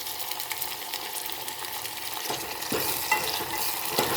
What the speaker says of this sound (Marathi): चांगलं ह्याला तेल सुटेपर्यंत परतत राहूया.